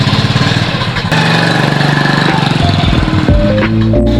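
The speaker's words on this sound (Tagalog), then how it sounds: "magmamotor nga pala ako" A motorcycle engine runs loud and close with a steady idle throb, then rises and shifts pitch near the end as it revs.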